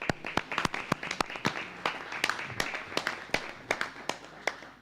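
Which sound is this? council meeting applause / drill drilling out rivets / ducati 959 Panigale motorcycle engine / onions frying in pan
council meeting applause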